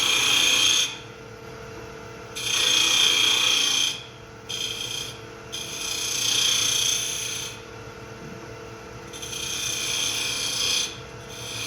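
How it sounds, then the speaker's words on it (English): A small wooden pot is turned on a wood lathe with a spindle gouge. Repeated rasping cutting passes come in several loud bursts over a steady motor hum, with no talking. "So I'll take the spindle gouge again, and I'll just work out to it."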